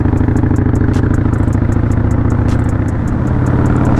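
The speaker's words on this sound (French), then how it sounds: "je sais pas si vous entendez bien le bruit de l'échappement" Motorcycle exhaust while riding, a loud, steady, throbbing engine note up close with a rapid pulsing rhythm that dips slightly near the end, with no talking.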